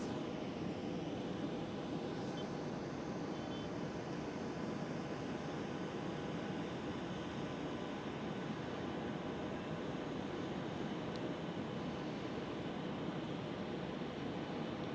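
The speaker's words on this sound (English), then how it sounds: "Right here, Qatar Airways 777, landing on runway 27." A Qatar Airways Cargo Boeing 777 lands on runway 27 at Amsterdam Schiphol, heard as a faint, steady, broad engine roar from a distance that holds evenly throughout, with no talk.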